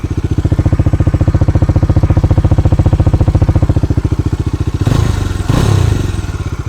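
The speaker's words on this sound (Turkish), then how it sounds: "Hatta sesini de size dinletmek istiyorum egzoza değinmişken." A Bajaj Dominar 400 single-cylinder motorcycle exhaust thumps in a steady, rapid, loud pulse at idle, with a brief clattering blip of throttle near the end.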